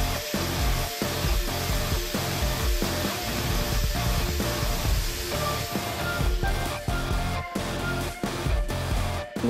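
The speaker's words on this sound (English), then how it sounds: "that's the nice thing about a flap disc is it gets it pretty smooth" An angle grinder with a flap disc trims the metal fender well of a 4th-gen Cummins truck, a loud continuous whine broken by repeated short cuts and pauses as the disc bites and lifts off the steel.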